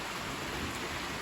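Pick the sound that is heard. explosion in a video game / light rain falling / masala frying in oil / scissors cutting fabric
light rain falling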